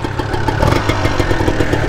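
A Yamaha TZR125 two-stroke motorcycle, just kick-started from cold, runs with a crisp, buzzing, slightly clattery idle that stays steady and loud up close throughout.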